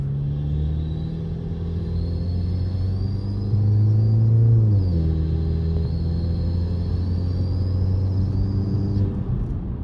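Turbocharged Audi A4 B8 fitted with a cold air intake, heard from inside the car while driving: a steady low engine rumble with a thin, sustained high whistle above it that swells briefly as the revs climb, then settles.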